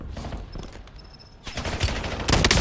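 Gunfire in the Warzone battle royale video game, with rapid automatic bursts that swell loud near the end among bursts of shooting and game noise.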